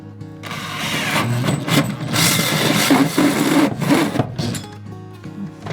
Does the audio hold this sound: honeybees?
no